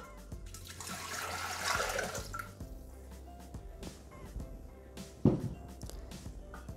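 Water poured into a Thermomix bowl at a kitchen counter, a soft splashing pour that swells and settles, then a single sharp clunk near the end, with faint dripping around it.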